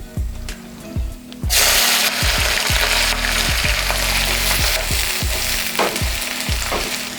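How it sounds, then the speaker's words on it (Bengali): Thick-sliced onions tipped into hot oil already holding whole cumin and dried red chillies burst into a loud, steady sizzle, with repeated scraping strokes of a spoon stirring them close up. "এইবার তেলের মধ্যে দিয়ে দিই একটু মোটা মোটা করে স্লাইস করে কেটে রাখা পেঁয়াজগুলোকে"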